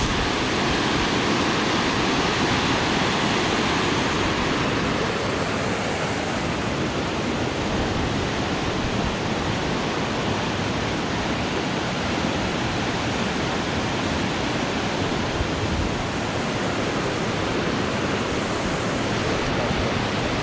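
Water pours continuously at a waterfall in Tat Ton National Park, Chaiyaphum, a steady broadband rush with no breaks, close and even throughout, with no talk.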